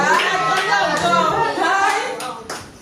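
A church congregation at a Sunday service claps in acclaim of the Lord, a steady patter of many hands running under voices and singing.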